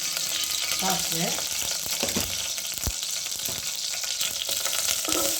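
Mustard seeds sizzle and crackle in hot oil for a South Indian tempering, a steady frying hiss with faint stirring and small pops, heard close with no talking.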